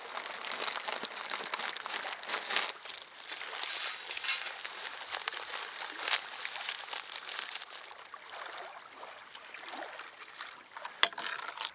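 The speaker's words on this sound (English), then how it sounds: "I just like to stuff my tent, and then putting it in a compression sack" A tent being stuffed into a compression sack at a Yukon wilderness campsite, a continuous close rustle of crinkling, swishing fabric with no talking.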